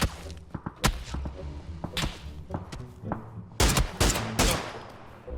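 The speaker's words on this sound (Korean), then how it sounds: "멀리서 쏜다" Gunfire in a competitive online shooter game: scattered sharp shots early, then a dense cluster of loud bursts, fairly close and punchy, with thuds between them.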